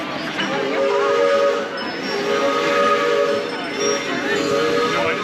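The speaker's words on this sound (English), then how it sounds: "And there goes the second train going back to the yard, empty for the night." Distant rumble of an empty Disneyland train rolling back to the yard at night, its whistle sounding in long drawn tones over crowd noise and faint outdoor chatter.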